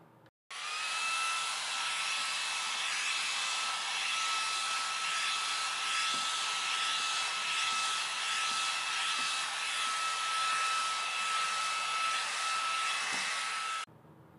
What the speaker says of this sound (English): footage of it cleaning my air purifier's filter